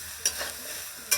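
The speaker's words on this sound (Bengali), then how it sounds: "লাল লাল করে ভাজা হবে মোটামুটিটা সোয়াবিনটা" Soya chunks frying in a pan give a quiet, steady sizzle with two sharp scraping stirs of a spoon against the pan, about a second apart, and no voices.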